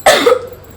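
A child gives a single short, sharp cough in the morning at home, close and loud, with the sound trailing off quickly and no speech.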